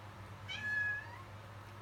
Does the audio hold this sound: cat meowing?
yes